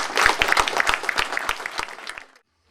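An audience at an exhibition opening in Phalempin applauds Victor Mahieu, a dense, steady round of hand-clapping close by that fades and stops abruptly after about two seconds.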